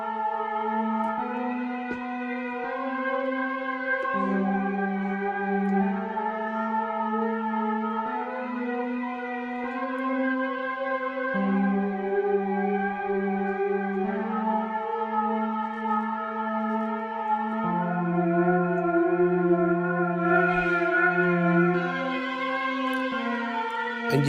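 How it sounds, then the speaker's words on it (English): A spooky polyphonic lead from a SynthMaster 3 granular oscillator with a cello source, sustained layered tones shifting through slow chord changes, steady and fairly loud with no talk. "you've created a really kind of spooky lead sound"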